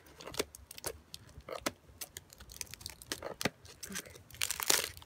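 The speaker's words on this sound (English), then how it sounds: "snipping it with the scissors and going up a little bit" Scissors snip upward through a packet of Eazy Colours colorant, giving a run of sharp, close clicks and crinkles with brief pauses between cuts.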